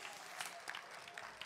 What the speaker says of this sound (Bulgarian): Аплодисменти си за Мария Бонева, това страхотно събитие.